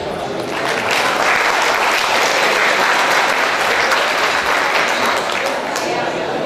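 Audience applause fills an auditorium at the Rádio Cultura de Pelotas during a Associação Colonial de Pelotas ceremony, a steady dense clapping that holds loud and even throughout with no talk over it.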